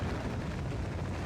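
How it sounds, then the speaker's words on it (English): A dense, rumbling explosion from the video game Factorio fills the moment with a continuous broad roar, loud and sustained with no talk over it. "Just you hear the explosion."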